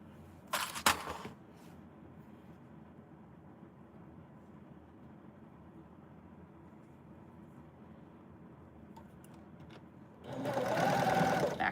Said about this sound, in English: Back stitching just a couple stitches so that it doesn't unravel on us.